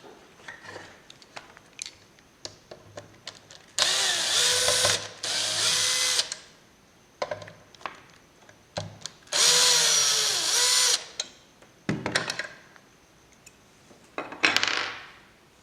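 Dust deflector taken off a Hitachi P20SB planer: several loud bursts of a cordless drill or driver spinning screws out, mixed with ratcheting clicks, small metal taps and handling noises between them, close by and with no talk.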